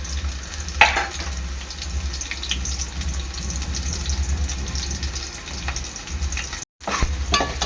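Onion frying with whole garam masala in a pan for an Agri Koli style mutton gravy, a continuous close sizzle with a sharp utensil clatter early on and a brief dropout near the end, no talking.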